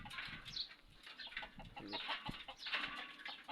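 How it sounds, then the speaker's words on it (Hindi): Chickens cluck and call inside a cage in a small backyard setup in Taif, a soft, busy flock chatter that continues throughout with occasional sharper squawks. "ये दिखाता हूँ आपको मुर्गियाँ"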